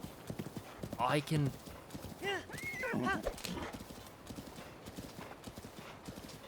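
Video game horse hooves clip-clopping alongside a whinnying neigh, a short burst of hoofbeats near the start and a neigh a moment later, with someone talking over it.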